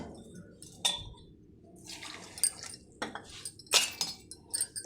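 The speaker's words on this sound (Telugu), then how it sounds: "ఒక కప్పు వాటర్ వేసేస్తున్నాను." A cup of water is poured into a bowl of Bombay rava (semolina) for coconut dosa batter, giving a few soft splashes and light clinks of the cup against the bowl. The sounds are faint and spread out across a quiet kitchen.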